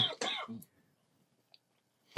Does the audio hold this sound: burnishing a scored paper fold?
no